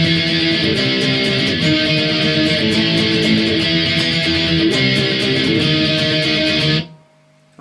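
Electric guitar plays the second part of a song's breakdown, a loud, steady strummed chord pattern close up that cuts off abruptly near the end.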